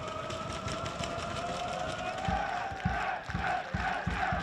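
Cardiff Met rugby supporters and team perform their famous celebratory clap at a campus match against Bath: steady crowd noise, then a slow, regular series of loud, booming unison claps building in the second half.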